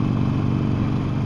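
A Harley-Davidson Sportster 48 from 2020, its V-twin engine running with a steady, continuous low rumble throughout the short moment, close and dominant with no talking.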